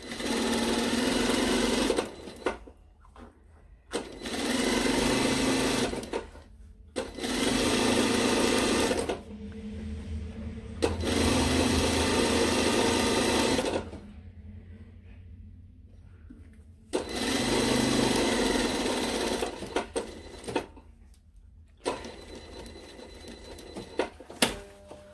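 A sewing machine runs in five or six long loud bursts separated by short pauses, stitching the curved elbow seam of a blazer sleeve, with no talking.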